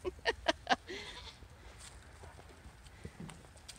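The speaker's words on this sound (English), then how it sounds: "Those are your sheep, buddy." Sheep and goats on a farm give a quick run of about four loud, close bleats, followed by quieter shuffling and a faint, distant call.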